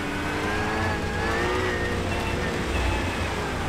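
A race car in a rain-soaked racing simulator drives through puddles, its steady engine drone blended with a continuous hiss of water spray, close and unbroken for the whole stretch.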